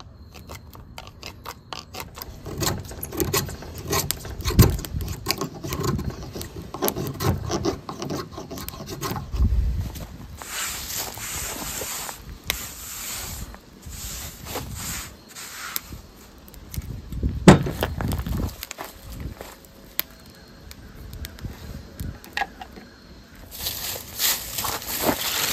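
A steel Mora Companion knife rasps and scrapes along wood, carving off shavings in repeated close strokes, with short pauses and bursts of brighter scraping between them.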